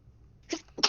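A person sneezes in two quick bursts, a short initial catch followed by a sharper, louder release, close up and alone with no talking.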